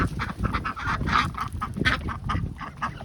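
Several farm ducks quack repeatedly in a busy, overlapping chorus, close and fairly loud, with a steady low background rumble throughout.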